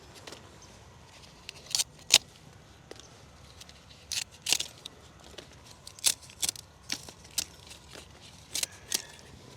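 Pruning shears cut back a gigantic yucca plant outdoors, with a series of sharp, close snips and crunches coming in irregular clusters against a quiet background.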